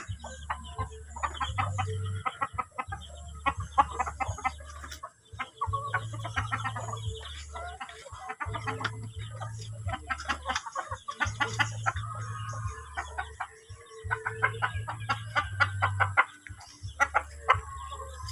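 Native chickens cluck and chatter continuously nearby, with a low engine-like hum pulsing underneath and occasional louder squawks.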